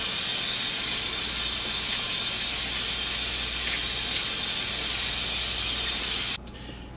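Water runs steadily over baby napa cabbage and small radishes being washed for Korean yeolmu water kimchi, a constant close hiss that cuts off abruptly near the end.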